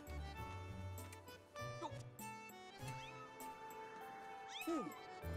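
A cat in the video game Zelda Skyward Sword HD gives several close, drawn-out meows with rising and falling pitch, scattered over a soft game backdrop.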